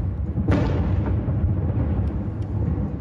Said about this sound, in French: Ici, le son d'une explosion.